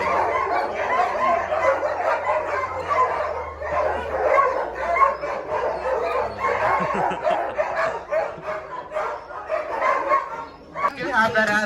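Sled dogs in Skagway, Alaska barking and yipping excitedly, a dense overlapping chorus of close yaps and whines that continues throughout, with people talking underneath.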